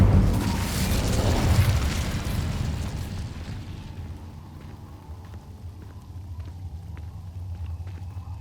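Incendio fire spell exploding in the Hogwarts Legacy video game, a loud burst of booming rumble that swells for a few seconds then fades into quieter crackling and ambient game sound.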